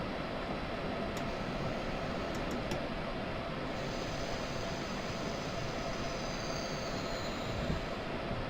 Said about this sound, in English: Right, I'm just going to stop here, let the train come to a stop.